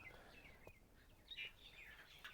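A koel calls among other small birds outdoors, faint, high, brief chirps and whistled notes repeating at a distance over a quiet background.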